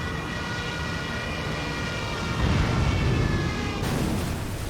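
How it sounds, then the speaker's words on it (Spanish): Wailing dive sirens of German Stuka dive bombers over a 1940 French battlefield, a loud continuous roar and whine with a heavier rumbling surge midway, no talking. "los Stukas, los bombarderos alemanes, retoman sus vuelos en picado y aterrorizan a las tropas aliadas con el sonido de sus sirenas."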